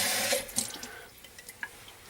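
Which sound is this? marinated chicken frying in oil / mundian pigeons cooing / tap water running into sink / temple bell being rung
tap water running into sink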